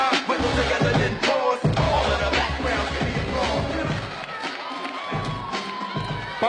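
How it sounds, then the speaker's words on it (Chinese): Crowd at a street dance competition cheering and shouting after a close dance battle result, loud mixed whoops and cheers with an amplified voice talking over them. "把欢呼声送给我们的布布"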